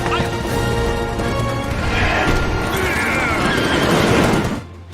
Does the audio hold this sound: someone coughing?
no